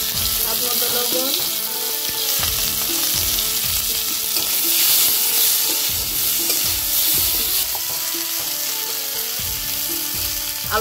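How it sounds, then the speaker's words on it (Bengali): Potatoes sizzle and crackle in hot oil in a pan, a steady close frying hiss with rhythmic scraping and stirring strokes from a utensil throughout. "এই তেলটাতে আলুটা ভেজে নিচ্ছি।"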